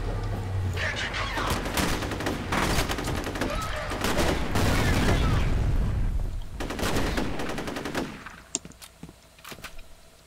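Rapid bursts of gunfire from the shooter game F.E.A.R., loud and close, with repeated volleys and dense crackling shots over most of the stretch, easing into scattered single cracks near the end.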